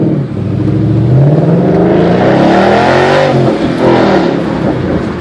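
Close and loud, the V8 of a 2011 Ford Mustang GT California Special roars through a Roush exhaust, rising and falling in one sustained rev with no voices.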